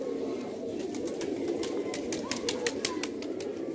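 Local domestic pigeons cooing in a loft, soft repeated low coos over a steady background murmur, with faint rustling and light tapping sounds nearby.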